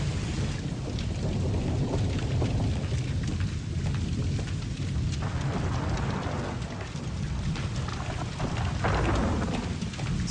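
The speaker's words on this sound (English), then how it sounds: "The rain's got the sewer backed up." Steady heavy rain pours through a stormy night, with low rumbles of thunder rolling beneath the constant hiss of the downpour and no voices.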